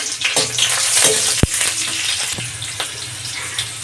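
Chilies crackle and hiss in a hot pan with garlic for street-style veg fried rice, a steady close sizzle broken by a sharp metallic knock and occasional stirring scrapes.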